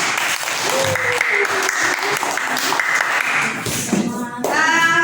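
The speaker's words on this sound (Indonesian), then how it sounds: "Berikan tepuk tangan." Classroom applause for a group presentation, a lively burst of many hands clapping at close range with a voice speaking over it and a brief high whistle-like tone near the end.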